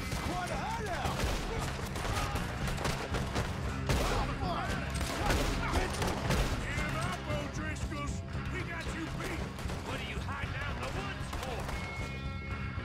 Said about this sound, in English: none of these shots are hitting with my shitty gun!